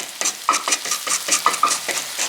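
Spice powders are stirred while they roast in a pan for a Kerala-style squid roast, making rhythmic spatula scrapes and soft sizzling bursts up close, with no voices.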